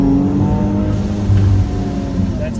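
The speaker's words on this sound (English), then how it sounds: "That's a boost hit rolling" A V6 car with turbo blow-off valves makes a rolling boost hit in high gear, a loud continuous engine drone that surges and swells near the middle, with brief whooshing at the start and near the end.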